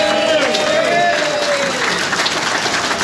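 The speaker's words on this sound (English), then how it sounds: "Please give them a round of applause." Steady applause from a crowd honoring a group of volunteers, a dense continuous wash of clapping that stays loud throughout with a few voices mixed in.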